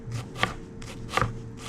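A knife chopping vegetables on a cutting board, two crisp close knocks about three-quarters of a second apart over a faint steady hum.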